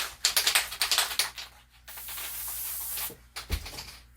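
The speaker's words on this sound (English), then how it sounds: "I'm going to use spray adhesive" Spray adhesive hisses from a can in one long burst, framed by quick rattling shakes of the can before and after, close and alone.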